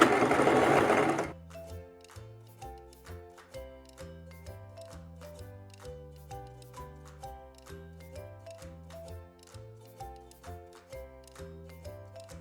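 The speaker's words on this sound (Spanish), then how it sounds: "Haces un pequeño remate." Sewing machine running a short backstitch at a 1 cm seam allowance on a zippered crop top, a brief burst followed by a steady, evenly spaced mechanical stitching rhythm, clear and alone.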